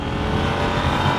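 KTM 890 Duke R motorcycle engine running loud and close, a continuous rough mechanical roar over the whole brief moment, with no speech.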